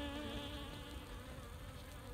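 Honey bees buzzing close up on a brood frame of a hive, a dense steady drone with no gaps throughout.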